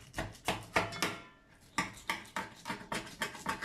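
A knife chops through fish on a board with about a dozen sharp, close strokes in a steady rhythm, broken by one brief pause midway.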